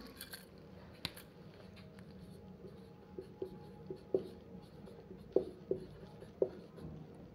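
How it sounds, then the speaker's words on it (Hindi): Pen or marker writing a topic heading by hand, quiet scratchy strokes with several small taps and pauses at close range in a calm room. "तो चलिए टॉपिक लिख लेते हैं।"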